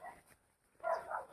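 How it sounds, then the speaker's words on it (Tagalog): A dog gives a faint, distant bark or two, quiet against a low outdoor background. "May aso."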